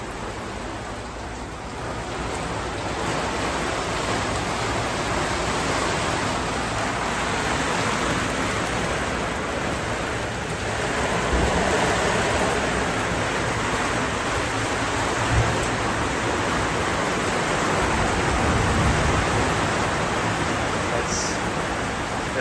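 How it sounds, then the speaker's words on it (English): Steady, gentle rain patters across canvas in a continuous hiss, soft and even throughout with no voices. "It is raining just a little."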